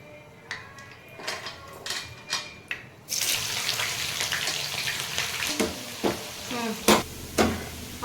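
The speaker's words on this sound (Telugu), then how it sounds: "ఆనియన్ ఫ్రై చేసుకోవాలా." Onions fry in hot oil for chicken korma, a broad steady sizzle that swells in suddenly after a few soft clinks and stirs, with utensil taps and scraping continuing over it.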